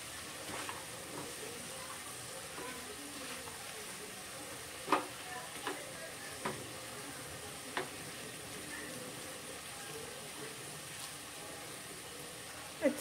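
Boiled chana dal being stirred into spiced potatoes in a pan over a medium gas flame, with a soft steady sizzle and a few sharp scraping clicks of the spoon against the pan.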